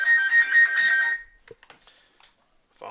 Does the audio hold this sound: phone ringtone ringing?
yes